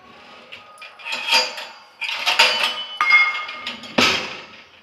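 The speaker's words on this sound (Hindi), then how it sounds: "ये कल का दूध इतना बच गया था तो मैंने गिलास में खाली करके रख दिया है ढक देते हैं कटोरी से" Steel bowl set over a glass of leftover milk in a home kitchen, a few bright metallic clinks and knocks scattered across several seconds, close and fairly loud with quiet gaps between.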